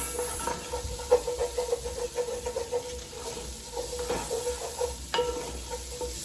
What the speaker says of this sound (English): Let's give that a little stir